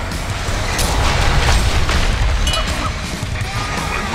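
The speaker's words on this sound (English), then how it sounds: "The Legion have destroyed a Hellborn tower." A Hellborn tower is destroyed in Heroes of Newerth amid dense, loud booming crashes and crumbling impacts, a continuous chaotic barrage of hits and bursts throughout.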